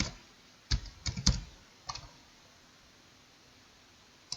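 Several quick clusters of keystrokes on a computer keyboard while answers are typed into a Kahoot quiz, close and crisp, in short bursts and then a pause and a single final tap.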